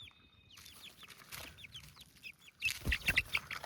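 Feather-footed chicks and chickens cluck and peep in a busy chorus, with a sharper burst of clucking and a flap or scuffle near the end.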